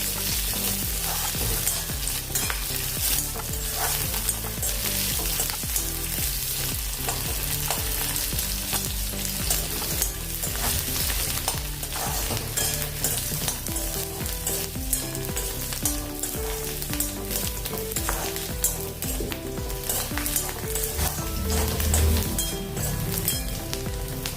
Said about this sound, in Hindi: साथ में हम इसमें लहसुन डालेंगे, भून लेंगे।